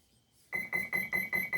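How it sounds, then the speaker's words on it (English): RC boat electronic speed controller powering up with a run of six short, evenly spaced high-pitched beeps, close and clear after a moment of near silence. "this is the new ESC, so it gives you the beep, and then it gives you 6 single beeps"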